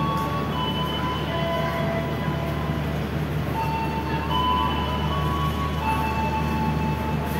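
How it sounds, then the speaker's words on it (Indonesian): An economy-class Senja Solo passenger train pulls away from an Indonesian station with a continuous, loud rolling rumble of wheels on rails and thin, high metallic squeals drifting in and out throughout. "Sini ada kereta api Senja Solo barusan berangkat."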